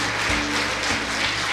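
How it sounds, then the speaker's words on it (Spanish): Church congregation applauding during a sermon, a continuous wash of clapping filling the room with a few low thumps underneath, steady and fairly loud. "Dale un fuerte aplauso al Señor."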